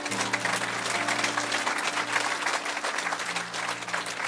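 A church congregation applauds and cheers for Jesus after a healing, dense sustained clapping from a large crowd, with a low drone underneath.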